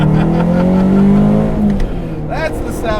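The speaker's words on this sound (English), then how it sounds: "That's the sound you want. That's like the proper 2-step launch control." A K24-swapped Honda Civic EG hatch holds a harsh, popping rev on 2-step launch control, loud and close, then the clutch drops and it pulls away. A voice speaks briefly near the end.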